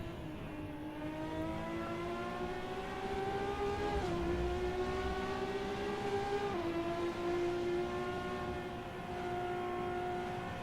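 A race car in an SRA ProCars series lap, heard on board as the engine revs toward 9,000 RPM: a loud, steady high-pitched engine whine with two brief dips during gear shifts, continuous and close, no talking.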